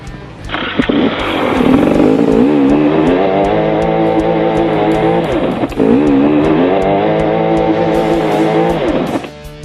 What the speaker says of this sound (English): I'm busy spinning my wheel up and I'm not going anywhere